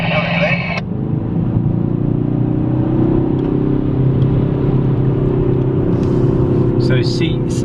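A Kia ProCeed car being driven around the Barcelona race track, heard from inside as a steady engine drone and road rumble that rises slightly in pitch, with a brief burst of other sound at the start and a few faint clicks near the end.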